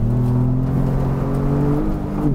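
A Ford Bronco engine on timed laps, a sustained loud whirring drone holding steady pitch with a slight rise near the end, heard from inside or close by, no talking.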